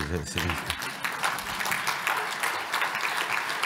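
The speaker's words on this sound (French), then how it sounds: "Mais vous pouvez l'applaudir" A conference hall audience at a national humanitarian conference's opening session claps continuously, with a brief voice at the start before the dense, even applause takes over and holds steady.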